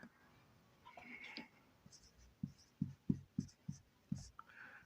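Marker or chalk strokes on a classroom board come as a quick series of short taps and scratches. A teacher's voice sounds softly in the background.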